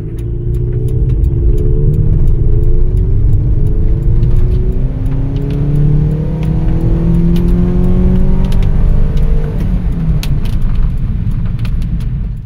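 A non-turbo 2007 Subaru Forester engine pulls at wide open throttle in first gear, its loud droning note climbing steadily in pitch for about ten seconds before easing off, with no talking.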